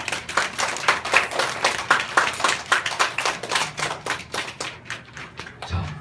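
A church congregation claps together in encouragement, a dense run of rhythmic hand claps that starts strong and thins out toward the end.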